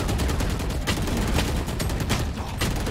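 Gunfire in a Valorant ranked match, a loud, continuous rattle of rapid shots with short sharp bursts throughout.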